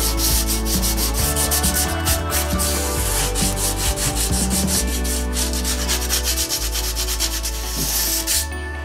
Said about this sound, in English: I'm just gonna sand it a little bit